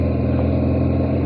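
A BMW R1200GS motorcycle's low, steady engine idle rumbles evenly throughout, with a soft, smooth burble and no voices.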